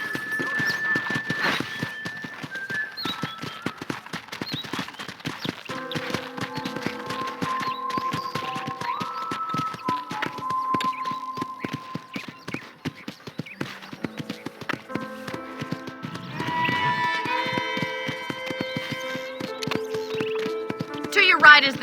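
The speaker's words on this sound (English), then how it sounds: "let's see if you can still ride a horse" Steady hoofbeats of a ridden horse in the Red Dead Redemption video game clip-clop continuously through the scene, mixed with game music and a voice talking over them.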